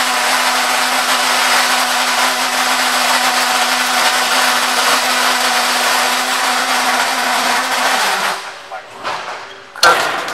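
Drive shaft welder welding a rotating drive shaft: a loud, steady industrial hiss and hum with a constant tone holds for about eight seconds, then cuts out into brief clatters and a sharp final clunk.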